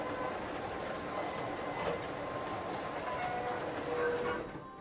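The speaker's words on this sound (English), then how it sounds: "It's a subway." A subway train in the video game Zork: Grand Inquisitor rumbles along steadily, a dense, continuous rolling drone with faint rail clatter and brief squealing tones, holding at a moderate level before easing off at the end.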